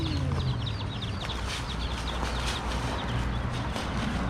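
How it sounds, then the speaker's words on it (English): Hen with her chicks in a Wahiawa botanical garden in Hawaii, with high cheeping chick calls repeating over constant outdoor noise and a low rumble, moderately close and unbroken by talk. "And the hen with its chicks."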